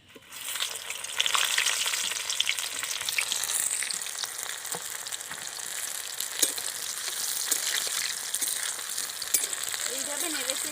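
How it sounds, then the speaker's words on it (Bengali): Chicken pakoras get a second frying in hot oil, a steady close sizzle and crackle with occasional stirring clicks, lasting throughout. "এবার আমি ডবল করে ভেজে নেব।"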